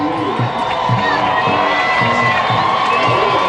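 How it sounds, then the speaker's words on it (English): A huge football crowd at a high school state playoff game cheers and roars continuously, with whoops and shouts rising out of the dense, loud wall of sound and a steady thumping rhythm underneath. "Warrior fans on their feet, a huge crowd"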